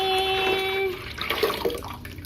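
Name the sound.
water pouring into a jug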